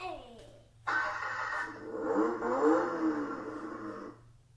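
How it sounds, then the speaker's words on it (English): A LIGIANT L8 12-volt electric ride-on toy car switches on with a sudden whirring motor hum that runs steadily for a few seconds, while children and an adult talk and cheer over it. "Little engine noise."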